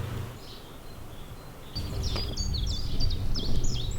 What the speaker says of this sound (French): Écoutez les oiseaux là.